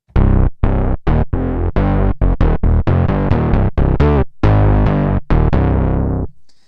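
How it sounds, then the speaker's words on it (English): Heavily distorted EDM edge bass synth with no bass amp, played as a run of loud, sharp staccato notes with short gaps between them, alone and bright. "I have a bass I call edge bass, because I've added a lot of distortion to it"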